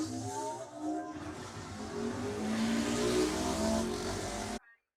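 Road-race motorcycles, including a Honda 750 and a Honda 500, set off together from the start, a dense, loud roar of engines building steadily for several seconds before cutting off abruptly.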